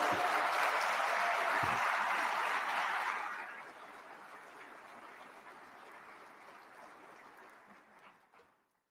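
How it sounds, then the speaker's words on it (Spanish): Loud applause breaks out for the women of an office at a formal end-of-term accountability ceremony, with dense clapping for about three seconds before it thins and fades away. "para todas las mujeres de mi despacho pido un inmenso aplauso"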